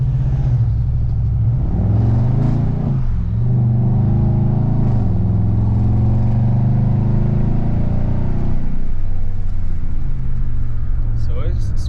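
A straight-piped 2019 Chevrolet Silverado with true dual exhaust, heard from inside the cab: a loud, continuous deep exhaust drone that swells and eases as the engine revs, with a brief higher squeak near the end.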